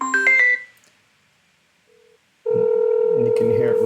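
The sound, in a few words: telephone call ringing on speakerphone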